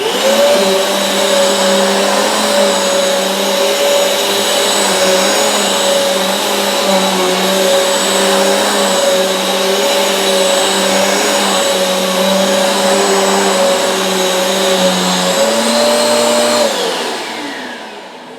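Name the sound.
Eureka Airspeed One vacuum cleaner picking up flour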